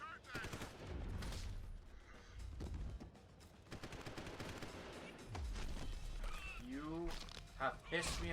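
A big gun fires in rapid bursts in the video game Deus Ex: Human Revolution, dense and chaotic, with game voices talking over the shots and scattered electronic effects.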